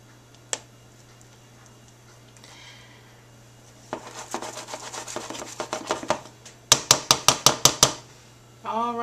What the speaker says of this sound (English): You can even shake the pan a little bit, and it actually helps it distribute more